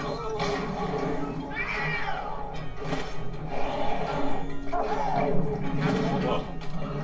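Cartoon cat from the Luigi's Mansion 3 video game yowls and meows in several short cries over game music and effects, with a player talking over the action.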